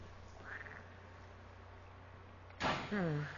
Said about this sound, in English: Yeah, look at these frogs. They're pretty intimidating.